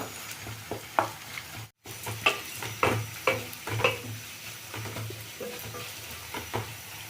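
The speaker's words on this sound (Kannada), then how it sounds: "ತರಕಾರಿ ಚೆಂದಕ್ಕೆ ಫ್ರೈ ಆಗಲಿ ಎಣ್ಣೆನಲ್ಲೇ" Vegetables fry in oil in a pan for upma, a steady close sizzle broken by repeated scraping stirs and light clinks of the spoon, with a brief silent cut partway through.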